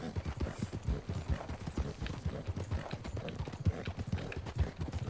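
Horse hooves clip-clop at a steady walking rhythm in Red Dead Redemption 2, moderately close and even, with no talking over them.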